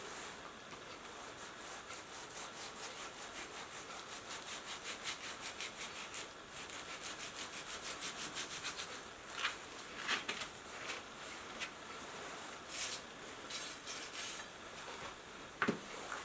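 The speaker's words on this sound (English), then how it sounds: "I think what I'll do is just trim some of that off" A knife trims fat from a tri tip beef roast, giving soft repeated rubbing and scraping strokes up close, steady at first and then in uneven bursts with a few sharper taps.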